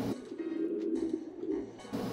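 A pigeon coos in the Jazzpunk video game, giving a soft, low, continuous warbling call that sits close and steady with a brief pause near the end.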